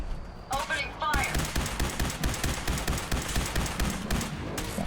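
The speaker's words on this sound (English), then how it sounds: "Opening fire." Rapid gunfire from Fallout 4 erupts in a dense, continuous burst of shots, loud and close, with a voice briefly heard at the start.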